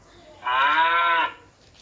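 A children's toy plays a recorded cow moo, one loud, steady electronic lowing note lasting under a second, sounding alone after a quiet moment with nothing over it.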